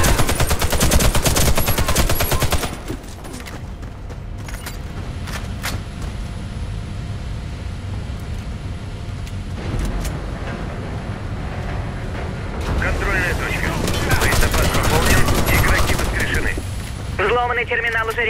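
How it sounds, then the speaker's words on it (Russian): Combat in the video game Warface on an icebreaker mission: rapid, loud bursts of automatic gunfire and a heavy explosion from a grenade, continuous and close, with voices calling out amid the shooting. "Граната!"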